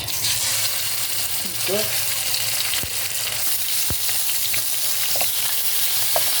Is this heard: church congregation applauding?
no